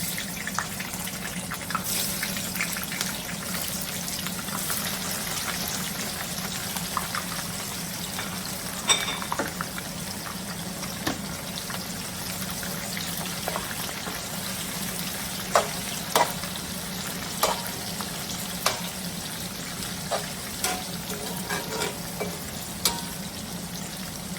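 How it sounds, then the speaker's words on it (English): Onions hitting hot oil in a pan for a chicken stew, a continuous hiss of frying with scattered sharp pops and occasional stirring clicks, close and steady for the whole stretch with no voices. "So I'm gonna go ahead and add my onions in hot oil."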